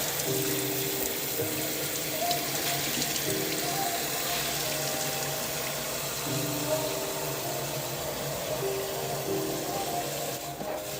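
Hot water runs steadily from a tap to fill a tie-dye soak, a continuous hiss with a low mechanical hum underneath.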